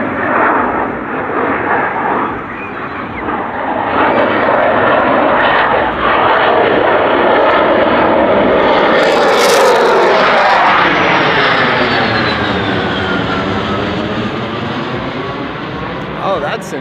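An F-18 Growler jet's engines roar loudly and continuously, rising and then sweeping in pitch as the jet passes close by at an airshow-style high alpha pass, with a faint voice underneath.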